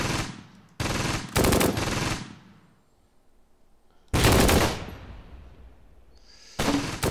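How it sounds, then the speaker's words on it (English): Machine-gun fire in the WWII strategy game Close Combat, set around Caen, comes in several loud, close bursts of rapid shots separated by fading echoes and short quiet gaps, with no voices. "deal with that machine gun"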